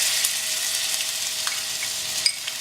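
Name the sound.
garlic ginger paste frying in pan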